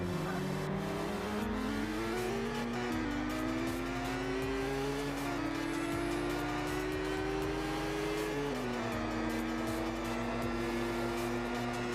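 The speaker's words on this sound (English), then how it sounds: "and then there the car goes" A car in a Unity racing video game holds a steady, loud engine drone for the whole stretch. Its pitch climbs gradually, dips briefly near the end, then picks up again.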